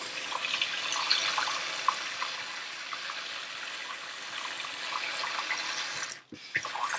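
A kitchen faucet runs steadily into the sink with a constant, close hiss of splashing water, then a brief knock and squeak near the end as the handle moves.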